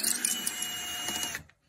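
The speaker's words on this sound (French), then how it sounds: "Bon, moi je vais le faire à la visseuse, toute petite vis." A small power screwdriver spins out tiny screws from a metal plate on a bohemian trunk, a close, steady whirring motor hum lasting just over a second before stopping abruptly.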